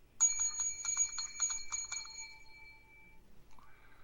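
A small bell rung as a corporate bell, a quick series of about eight bright metallic dings that then fades into a lingering ring and near silence.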